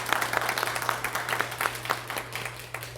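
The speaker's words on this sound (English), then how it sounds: "Can we give them another round of applause, please?" An audience of parents and guests claps for elementary students advancing to a state Destination Imagination competition, steady dense applause at moderate distance over a faint electrical hum.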